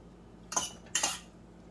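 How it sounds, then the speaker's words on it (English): Two quick metallic clinks of utensils against a pot while noodles are scooped out for serving, close and fairly soft, with quiet room tone around them. "Scoop out some noodles."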